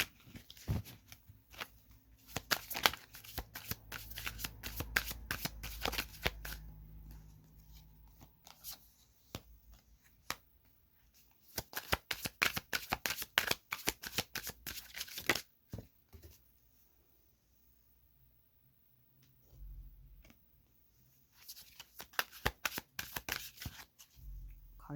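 Tarot cards are shuffled by hand in repeated crisp riffling bursts with quiet gaps between, close and fairly soft, a few cards slapping down as they spill.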